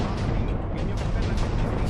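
Rapid, dense booming explosions from the video game Minecraft, a continuous loud barrage of blasts and rumbling with no clear gaps over about two seconds.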